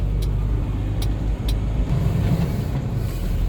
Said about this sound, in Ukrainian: Зараз я буду заїжджати задом туди.